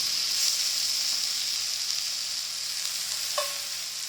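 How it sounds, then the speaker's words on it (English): Marinated beef browning in a cast iron pan gives off a constant loud, hissing sizzle, close up, with a single clink of a utensil near the end and no talking. "we're going to start getting our beef in here. We just want to brown it on each side."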